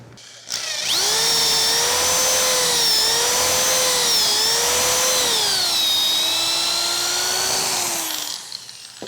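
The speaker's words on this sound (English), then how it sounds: "I can then drill my first hole." A power drill with a guide bores a 3/8 inch dowel pivot hole in a wooden leaf support for a drop leaf end table, a steady loud whine held about eight seconds with slight dips in pitch as the bit loads, then stopping.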